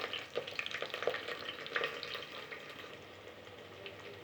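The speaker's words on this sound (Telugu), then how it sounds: "వేసుకొని వీటిని బ్రౌన్ కలర్ వచ్చే వరకు ఫ్రై చేసుకోవాలి" Onions and green chillies frying in a pan with spices, a steady, close sizzle with some stirring scrapes early on, gradually settling into a softer hiss.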